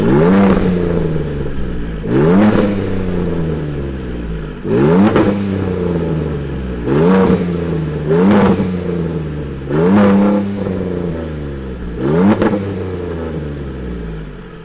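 A 2015 Ford F-150 RTR truck engine revs repeatedly, each loud rising blip falling back to a rumbling idle, about six revs in a rhythmic cycle, close up with no talking.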